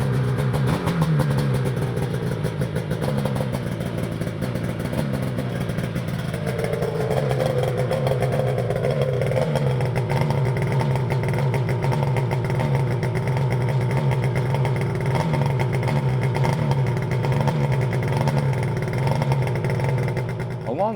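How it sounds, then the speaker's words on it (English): Snowmobile fitted with SLP kit pipes, its engine running loud and close with a rough, rapid idle that climbs into revs and settles back, the steady mechanical roar holding throughout. "Up next is the best part of any snowmobile project, the startup."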